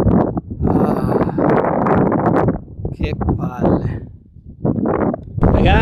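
Heavy wind buffeting a microphone in loud rumbling gusts during a road bike ride, with someone talking in Italian through and between the blasts.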